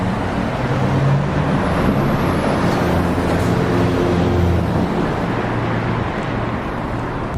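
Car and bus traffic rumbles steadily through a busy German business district, with engines idling and passing at mid distance and no voices heard.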